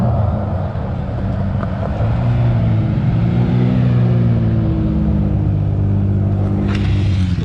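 A Nissan R33 with a built RB25DET turbo engine rumbles nearby at a night car meet, a loud, deep, steady low drone with wavering tones that lift slightly mid-clip.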